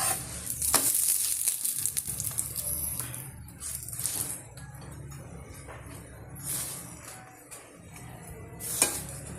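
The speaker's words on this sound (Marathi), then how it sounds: "दोन्ही साईडने तूप लावून घेऊया. चांगला भाजून घेऊ खरपूस." Aloo paratha with ghee on both sides sizzles and fries in a pan at close range, a steady crackle with brief louder spits and scraping, no talk over it.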